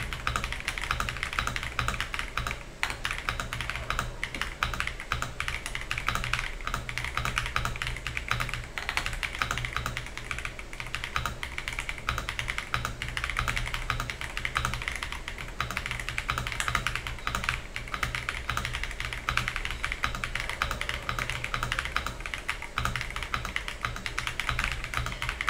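Continuous fast typing on a KZZI K75 Pro mechanical keyboard, a dense, steady patter of close-up key clacks with no pauses throughout.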